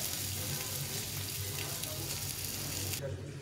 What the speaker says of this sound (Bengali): এখন আমি এই সাইডটা ভালো করে ভেজে নিই সুন্দরভাবে। ডিমটাকে মানে সবজিটা আর ডিমটাকে ভেজে দেবো।